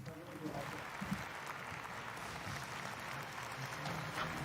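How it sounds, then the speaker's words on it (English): An audience at the Sunhak Peace Prize ceremony applauds as Dr. Hak Jahan Moon enters the stage, a soft, distant wash of clapping heard faintly in a large hall with a voice speaking over it. "Please welcome her with a big round of applause."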